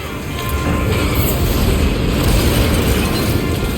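Omega Planetes sets off a mustard bomb in Monster Hunter Wilds, a loud, dense, roaring blast that swells in and keeps rumbling with a thick low boom and crackling debris across the whole stretch.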